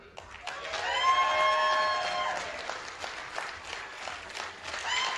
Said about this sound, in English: I think first up we need a big, big round of applause for Mike Turner.